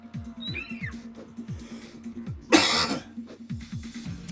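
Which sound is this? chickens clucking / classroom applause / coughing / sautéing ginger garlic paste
coughing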